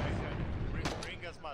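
Artillery gun fires in the Foxhole war game, a broad booming blast near the middle that rolls out into lingering echo, with a voice talking over the low rumble.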